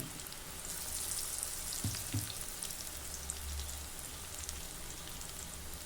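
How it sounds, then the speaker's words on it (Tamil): Onion pakoda deep frying in hot oil crackles with a steady, faint fizzing sizzle and occasional soft pops, continuous and close, with no voices. "நல்லா பொரிஞ்சு வெந்து வரணும்."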